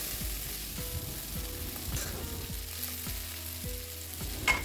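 Pigeon meat and pre-fried potato pieces frying in a pan, a steady close sizzle with soft scraping stirs and light clinks throughout.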